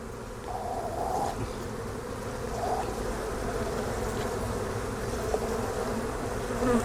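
Honey bees buzz steadily as they are knocked off a hive frame into a cup, a dense, continuous, close drone with a few louder swells and no speech.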